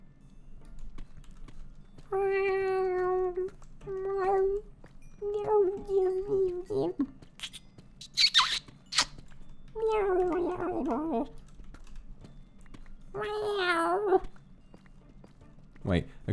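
A person imitates a cat with a series of drawn-out, wavering meows, several separate calls spaced over the clip, close and clear, with brief speech and quiet room noise between them.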